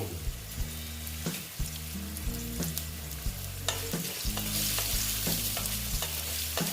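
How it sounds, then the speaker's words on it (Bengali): Moong dal frying together with chunks of ash gourd in a pan, with a steady sizzle and repeated scraping stirs at close range, while a low humming tone runs underneath. "দেখো ডালটা এটার সঙ্গে ভেজে নিচ্ছি"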